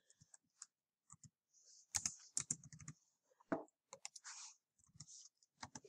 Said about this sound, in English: type in the date.